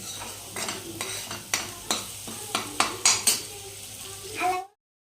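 Masala frying in a pan for a black pea usal, with a spoon stirring and scraping against the metal in repeated sharp strokes over a soft sizzle, ending abruptly.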